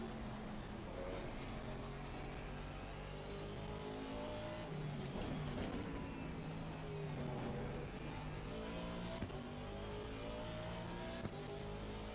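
A McLaren race car engine revs hard at Brands Hatch in a racing video game, running loud and continuous throughout with pitch rising and falling through gear changes, with occasional tire squeal.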